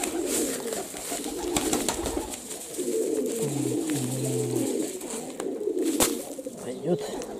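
Pigeons in a courtyard dovecote coo in soft, low, repeated calls close by, with wing flutters and rustling, while a person talks over them.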